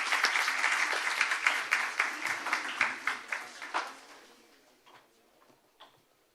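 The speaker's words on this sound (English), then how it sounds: "Now I request you all to give a big round of applause to welcome Dr." A conference audience at the JSMU International Research Conference breaks into full, lively applause to welcome a speaker, holding steady for several seconds before thinning out to a few scattered claps.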